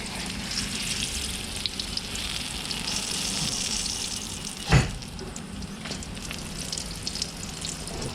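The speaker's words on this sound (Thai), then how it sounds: "ต่อไปก็ทอดผักที่เหลือจนเสร็จนะครับ" Vegetables deep-frying in hot oil give a steady, close hiss of sizzling that holds throughout, with one brief louder crackle partway through and no talking.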